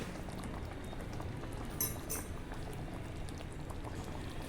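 Sago and vermicelli payasam with ghee bubbles in a pot, a faint, steady boiling burble with small liquid pops and no voices.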